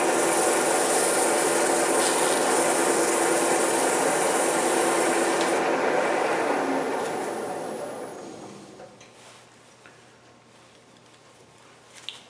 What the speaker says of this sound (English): I'm going to just sand just a skosh more